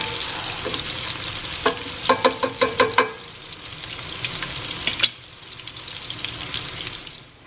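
Sausage sizzles loudly in a pot for a one-pot bowtie pasta dinner, with a quick run of sharp scraping or tapping stirs and one clank partway through.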